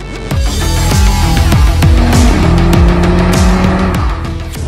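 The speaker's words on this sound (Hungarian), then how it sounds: "írja is, hogy zárt pályán, driftelhetünk egy kuprával" A Cupra Formentor VZ5 with a 390 hp five-cylinder turbo engine drifts on a closed track, its engine note rising and falling steadily while loud, sustained tyre squeal runs throughout, close and continuous with no talk.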